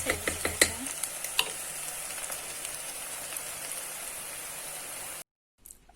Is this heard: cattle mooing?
no